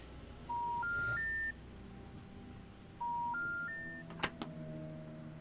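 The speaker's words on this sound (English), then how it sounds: "Answer the phone." Telephone ringing in the game Contradiction, two bursts of a rising three-note electronic ring separated by silence, followed by a couple of sharp clicks.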